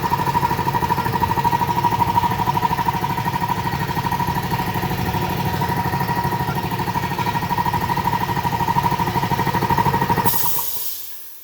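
A Kobalt 60-gallon air compressor runs with a loud steady mechanical pounding and motor drone up close, continuing unbroken for about ten seconds before winding down and cutting off.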